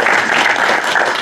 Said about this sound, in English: Give applause to Pak Kaim.